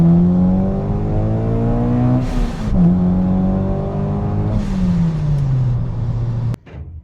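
Supercharged Kraftwerks 9th-gen Honda Civic Si sedan with full race exhaust and race catted downpipe pulls hard, its engine note rising through the revs, a brief dip at a shift, then climbing again before cutting off abruptly near the end; loud and close, no talking.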